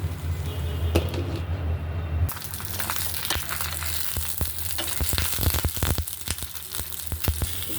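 Eggs frying in a hot pan, a dense crackling sizzle with sharp pops and spatula scrapes, close and loud throughout after a brief lower rumble at the start, no voices.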